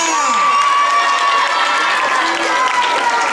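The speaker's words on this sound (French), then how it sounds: "Applaudissez plus fort! Plus fort que ça!" A loud crowd claps and cheers continuously at a school event, with shouts and whoops rising over the steady roar of hands.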